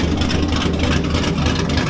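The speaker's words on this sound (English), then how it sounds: "We're letting the Camaro warm up on this fine morning." A Camaro's engine idles steadily as it warms up, a close, continuous low rumble that holds level throughout with no talking.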